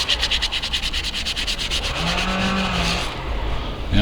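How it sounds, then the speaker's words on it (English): Steady rhythmic rubbing of a fine paint finishing block against a Stihl hedge cutter blade during restoration, a close, loud scratchy back-and-forth stroking that settles into a smoother continuous scrub. "It's a very fine paint finishing block, and it's not going to do any harm to this whatsoever."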